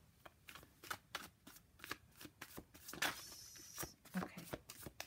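Tarot cards shuffled in a run of quick riffling bursts, fairly close and soft, with brief pauses between passes and occasional quiet speech.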